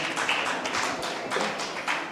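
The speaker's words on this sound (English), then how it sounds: "A round of applause for ANAS'S," Audience applause at a Takoradi community event: steady, dense clapping from a crowd, fairly close and even throughout, with no talk over it.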